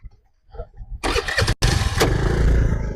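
A motorcycle engine cranks and catches after a quiet start, then runs loud and steady with a brief cutout midway, close to the listener.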